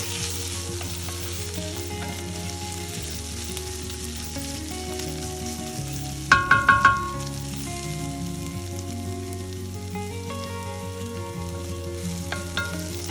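A spicy chicken patty filling with tomato ketchup sizzles steadily in a pan on the stove, with a brief burst of clattering stirring midway, no talking.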